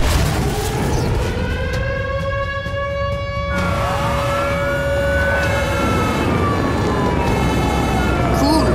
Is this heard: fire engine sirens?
yes